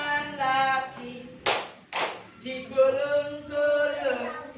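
Two sharp hand claps ring out a half-second apart in the middle of a children's action song, surrounded by a sung voice before and after.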